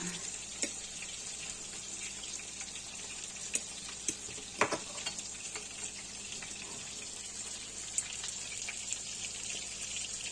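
Cutlets made with added buckwheat porridge frying in a pan, a soft steady hiss of hot oil with occasional light clicks and taps, fairly quiet with no talk.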